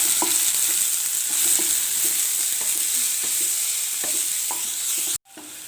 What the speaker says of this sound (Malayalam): പിന്നെ അല്പം ഇഞ്ചി വെളുത്തുള്ളി പേസ്റ്റ്, വേപ്പില, പച്ചമുളക്, ഇതെല്ലാം ഇട്ട് നന്നായി വഴറ്റാം